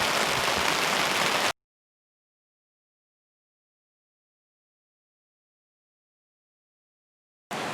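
Steady rain falls on a spring hunting camp in Hells Canyon, Oregon, as a dense, even hiss for about a second and a half, cutting to silence before resuming briefly at the end.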